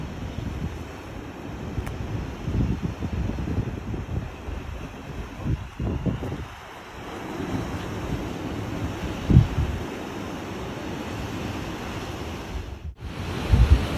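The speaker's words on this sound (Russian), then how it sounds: "Видите, волны, вот вроде как бы море очень спокойное." Calm sea waves washing onto the shore at low tide, a steady broad surf rush with swelling and receding surges, mixed with gusts of wind buffeting the microphone, one sharp knock near the end, and no voices.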